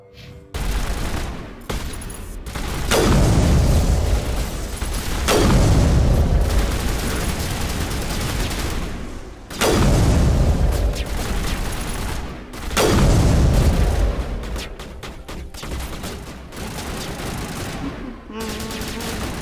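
Heavy video game gunfire comes from a sniper rifle and other weapons, loud sustained bursts and booming volleys that roll on and off in long waves, close and dense, with a voice talking briefly underneath.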